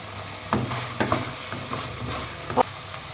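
Chicken handi masala being stirred in a pot, quiet sizzling with a few distinct scraping strokes of the spoon against the pot at irregular intervals.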